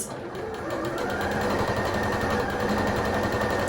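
A domestic sewing machine runs a seam at a long stitch length setting of 5, whirring steadily and continuously after a brief start, its fast mechanical rattle close and even throughout.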